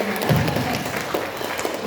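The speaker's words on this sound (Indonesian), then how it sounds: "Tepuk tangan." Audience clapping at a UKS coordination meeting in Wanayasa, a dense, steady wash of hands clapping together for about two seconds with no break, heard close and fairly loud.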